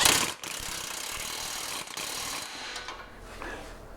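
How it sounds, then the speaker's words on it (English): A ratchet tightens the new nut on the front lower control arm of a 2013 BMW X5, giving a quick run of close clicks, then a pause and a few slower, fainter ratchet strokes. "We'll put our new nut back on our lower control arm, tighten it up"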